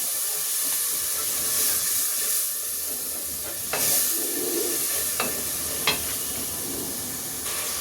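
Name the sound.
spice masala with salt being fried and stirred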